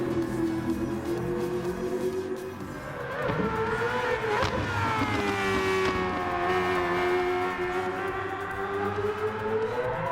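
A Sauber Group C race car engine in a racing game drones loudly and steadily, with rising and falling pitch as the car revs through gears, continuous and close with no talk.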